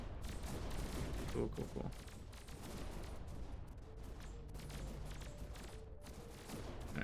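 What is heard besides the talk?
plasma heat bolts firing in the video game Annihilate The Spance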